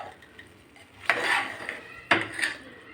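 Mushroom pulao stirred in a cooking pot, with two distinct scraping, clattering strokes of a utensil against the metal at close range, separated by quiet pauses and no talking.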